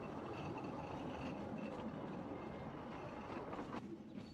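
A 1950s-vintage narrow gauge diesel locomotive running on preserved track, heard as a continuous low rumble with a faint rattle of wheels, steady and moderately distant.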